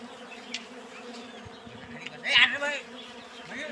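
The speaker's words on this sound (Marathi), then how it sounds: "मोठी माशी आहे इथे, राणी माशी आहे." A close, steady buzz of many honey bees around a wild hive in Ratnagiri, Konkan, swells briefly louder in the middle, a faint voice barely audible underneath.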